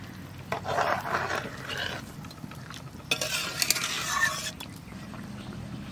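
Cauliflower florets and green chillies go into a pot of nearly boiled potatoes with ginger paste, heard as close clattering spoon-against-pot stirring and scraping in uneven bursts over a low background hiss.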